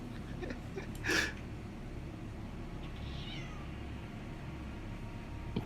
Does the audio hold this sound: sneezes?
no